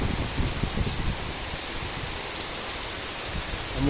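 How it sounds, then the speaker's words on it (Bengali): Heavy rain pours steadily, a dense hiss of drops striking surfaces with some low patter, close by and continuous without voices. "জোরে বৃষ্টি হচ্ছে।"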